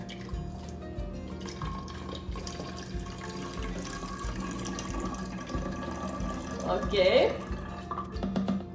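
Apple cider vinegar spilling and splashing into a kitchen sink while being poured, a continuous trickle and patter with a louder gush near the end, under a woman's brief spoken words and room noise.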